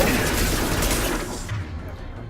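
Rapid gunfire from the sci-fi shooter Mass Effect 2, a dense continuous burst of shots that thins out toward the end, with no talking over it.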